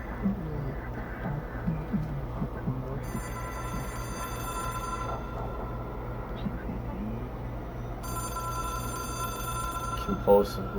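An old Bakelite telephone in the game Control rings in two bursts of bright bell trills separated by a pause, heard under someone talking and a low droning hum.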